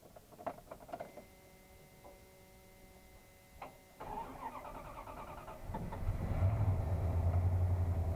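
A 1992 Dodge Ram D150 two-wheel-drive pickup cranks after a few faint clicks, then its engine catches and settles into a steady, fairly loud idle.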